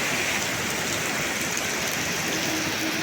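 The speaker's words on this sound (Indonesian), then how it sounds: "Ini hujan yang masih lebat lagi teman-teman ya" Heavy rain falls without pause in a steady, full wash of noise during days of flooding near a rising river, with no voices over it.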